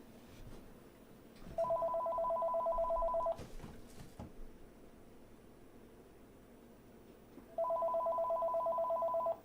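A telephone rings in two long electronic bursts, each lasting about two seconds, with a pause of several seconds between them. The rings are loud and close against a steady background hiss, and nobody speaks.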